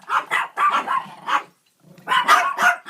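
Close, loud dog barks come in quick bursts, a pause of silence, then another flurry of sharp barking.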